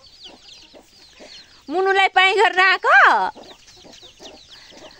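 A hen and her chicks on a Nepali homestead, the chicks peeping in thin, high chirps throughout while a loud, close voice speaks in a short burst over them.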